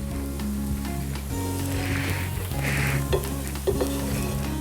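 Podi dosa frying in generous oil and ghee on a hot pan, a steady loud sizzle running throughout with faint utensil clinks, no voices.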